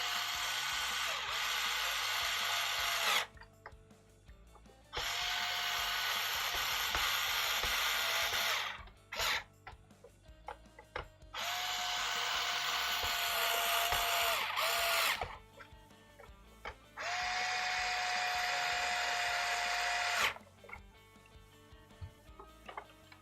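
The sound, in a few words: power drill driving screws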